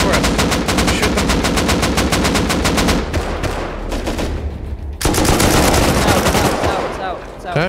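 Bursts of automatic gunfire in the video game Rust ring out as rapid, evenly spaced shots, loud and close, first in a long string, then after a brief lull in a second dense volley.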